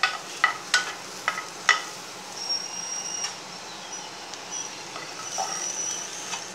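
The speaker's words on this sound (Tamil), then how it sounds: "இந்த ஈரம் போகிற அளவுக்கு ஃப்ரை பண்ணால் போதும்." Ingredients for green gram gravy frying in a pan, with a soft, steady sizzle broken by several sharp scrapes and clicks of stirring near the start, then quieter, even frying toward the end.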